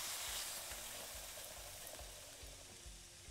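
Food frying and sizzling on a grill in a kebab restaurant simulator game, a steady close crackling hiss with soft repeated low pulses, no talk.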